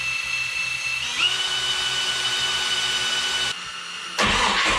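A boosted 3.0L boat engine spins on its starter with a steady whirring drone and rhythmic low pulsing, close and loud, cutting off briefly near the end before a sharp burst of noise resumes.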